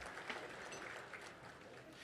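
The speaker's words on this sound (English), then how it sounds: "Let's give them all a huge round of applause" Applause from a seated audience at an economic forecast event, a faint, even patter of many hands heard from a distance for a couple of seconds.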